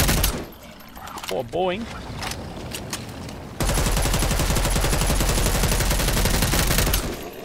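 Rapid automatic gunfire from a new weapon in the video game Dead Island 2, a loud dense burst of repeated shots filling the second half after a short spoken exclamation.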